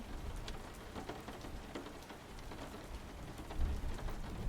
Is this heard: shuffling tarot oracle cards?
no